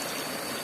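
Clear river stream flowing past a small waterfall along a trekking route, a short, steady hiss of rushing water at moderate level, with no voices.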